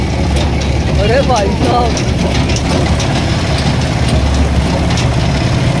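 Small farm tractor engine idling and running steadily during a ride, a continuous low rumble throughout with a voice speaking briefly over it.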